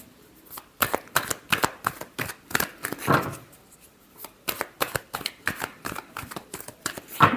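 Tarot cards being shuffled by hand in a run of quick riffling bursts, close and fairly loud, with short pauses between bursts and no talk.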